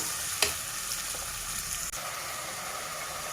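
Dried mutton pieces frying over low heat in a pan, giving a steady soft sizzle with a faint crackle and a brief stir near the start, close by and alone with no talk.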